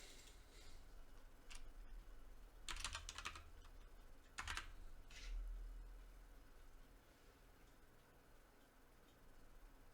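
Keys clack on a computer keyboard in quick, irregular bursts with a few louder clusters of strokes, faint and close in a quiet room with no talking.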